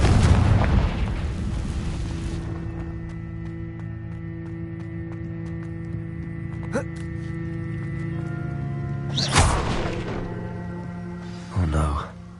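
A Confringo blasting spell in Hogwarts Legacy detonates with a loud opening boom that rumbles away, followed by a sharp crack and two more bursts near the end, set over a sustained game music drone.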